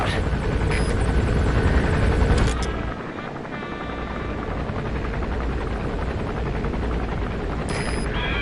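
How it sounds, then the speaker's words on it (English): A helicopter landing in a PS4 video game, its loud steady rotor thrum and engine whine continuing throughout, easing slightly after a few seconds as it settles. "There's a chopper landing."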